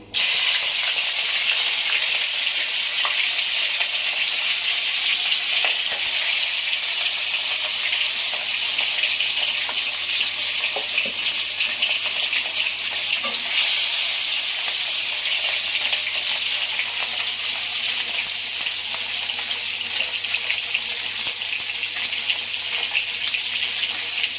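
Silver carp pieces frying in hot mustard oil in a kadai, giving a steady, loud, broad hiss and sizzle that runs unbroken for the whole stretch with no talking.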